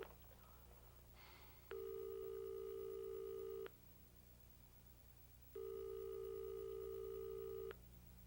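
Telephone ringing unanswered, two long electronic ring bursts separated by a pause, heard alone over a quiet background hum.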